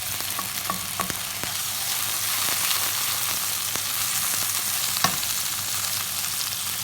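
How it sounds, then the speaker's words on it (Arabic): Onion frying in a pan with chicken breast and mushrooms, giving a steady close hiss of sizzling oil with occasional crackles and small pops, and no talk. "البصل وياه راح يستوي هسه."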